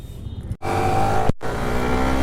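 Yamaha motorcycles set off together on an evening group ride in Kolkata, engines loud and close with a sustained roar, one sharp cut-off and rev surge partway through, no speech.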